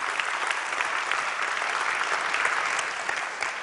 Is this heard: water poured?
no